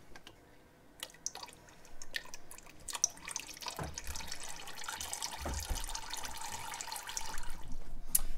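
Old gearbox oil draining from the R Tronic transmission of an Audi R8 into a catch container, a faint trickle and drip that grows into a steadier pour over several seconds, with no talking.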